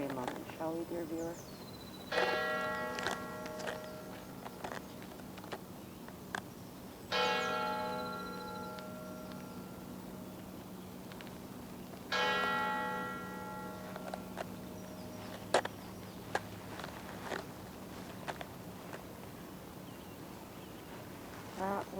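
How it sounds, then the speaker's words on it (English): Church bells in Florence ring the three-quarter hour through misty dawn streets, with three separate bursts of resonant tolling several seconds apart over a steady low city hum. "That would be the 3/4 hour bell."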